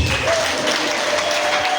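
A church congregation claps for Jesus during a sermon, a dense, steady wash of many hands sustained at close range throughout, with no words spoken over it.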